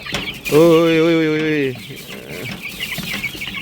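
Rhode Island Red heritage chickens cluck loudly while feeding; one strong drawn-out call stands out near the start, then softer clucks and farmyard noise follow, with a brief spoken exclamation.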